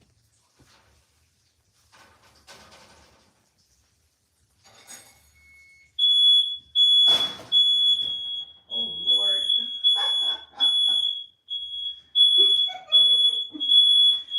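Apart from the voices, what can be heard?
smoke alarm beeping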